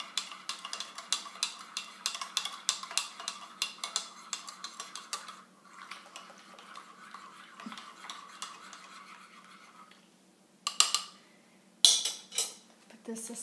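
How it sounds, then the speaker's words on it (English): A spoon stirs chai in a cup with a quick run of light metallic clinks against the sides, then pauses and gives a few louder taps near the end. "Take your spoon, mix it really good."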